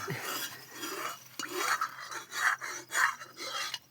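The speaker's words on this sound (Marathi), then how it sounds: "कढई धुवून काढ चांगली" Rhythmic scraping and rasping strokes of a scrubber worked hard against a metal wok, repeating in short bursts with no voices.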